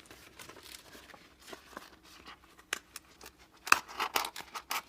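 Scissors make sharp slanted snips through leaves and stems of foliage while a rose casket scarf is arranged, a series of crisp close clicks and cuts, some louder, with soft rustling between and no talk.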